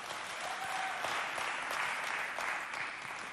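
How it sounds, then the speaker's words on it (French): A crowd at a youth competition event welcomes a contestant with steady, brisk applause, a continuous wash of many hands clapping at moderate distance. "je vous invite à l'accueillir avec beaucoup d'applaudissements"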